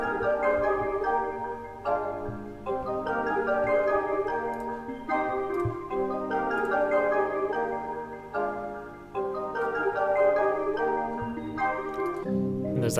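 A hip-hop type beat with its sample time-stretched to 148 BPM and pitched down 300 cents, playing continuously and loud with a low bass layer and repeating melodic phrases, no talking over it.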